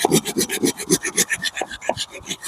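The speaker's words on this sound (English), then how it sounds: "what I'm going to do now is, always put your knife away, is cut through the rest of the log" Silky folding saw cutting through a wooden log outdoors, a steady rhythm of rasping back-and-forth strokes, about five per second, close and fairly loud with no talking.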